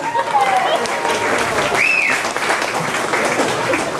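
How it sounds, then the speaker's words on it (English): An audience on a studio backlot tour applauds in a steady, dense round of clapping, with a voice speaking over it partway through. "Let's give a nice round of applause."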